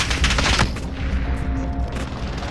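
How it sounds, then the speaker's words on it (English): A dense burst of automatic fire from a Scar rifle in a video game, loud and close at first, then easing into a steady rattling wash of shots and noise without any voices. "I'm taking fire."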